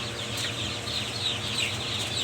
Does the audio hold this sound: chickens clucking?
yes